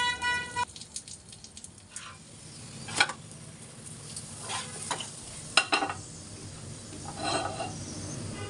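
A paratha fries in an oiled pan, giving a steady sizzle and crackle with scattered sharper spits and scraping clatters of a spatula; no talk.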